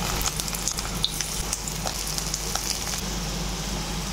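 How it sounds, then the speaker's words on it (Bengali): Prawn paturi parcels laid into hot oil in a pan over a low flame, giving a steady, close crackling sizzle with scattered pops. "একটু তেল দেব, গরম হয়ে গেছে। আস্তে আস্তে পাতুরিগুলো দিয়ে দেব।"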